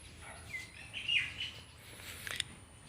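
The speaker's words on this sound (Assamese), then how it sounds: "ইয়াতে কঁঠালগুটিয়া চৰাইয়ে বাহ বান্ধিছে" A kathalgutiya bird calls near its nest in a flowering tree in front of a house, giving faint, scattered chirps and short tweets in a quiet outdoor setting.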